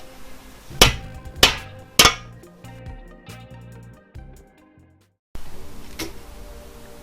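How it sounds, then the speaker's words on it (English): Three sharp hammer blows ring out on a metal bracket during a Mazda MX-5 engine strip-down, each leaving a bright metallic ring, followed by a pause and another strike. "grab a hammer."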